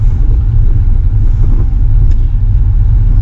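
A 2002 Audi TT 1.8T quattro coupé with a six-speed manual drives along, its engine a loud, steady low rumble heard from inside the car, with no talking.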